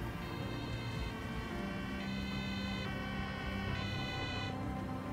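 A video game ambulance's wailing electronic siren alternates between two pitches in a steady cycle, moderately loud over a low engine rumble.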